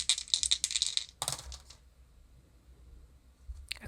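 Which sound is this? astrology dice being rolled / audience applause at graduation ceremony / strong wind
astrology dice being rolled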